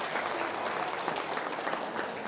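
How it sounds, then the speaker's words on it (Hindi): A quiz audience gives a brief round of applause for a correct answer: soft, even clapping from a group, heard at a distance for about two seconds. "ताली नहीं बजानी है, तालियां बजानी है।"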